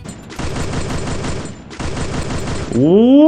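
Gunfire in a battle royale style video game, two long bursts of rapid automatic shots heard at mid distance, followed by a rising engine-like whine at the end, with players talking.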